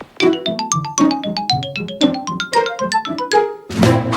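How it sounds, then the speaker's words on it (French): A GameCube-style chime melody plays as a cartoon Luigi drops a phone in the Mario movie, a bright sequence of bell-like notes repeating in short phrases, loud and clear, ending in a brief noisy burst. "quand il fait tomber le téléphone Luigi, on retrouve quoi? Le son de la GameCube"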